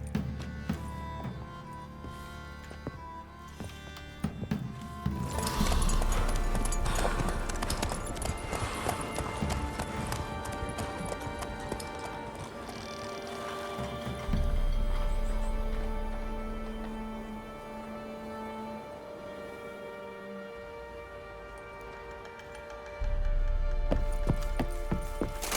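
Horse hooves clip-clopping in The Witcher 3, a steady rhythmic trot over a musical score that swells and fades at intervals.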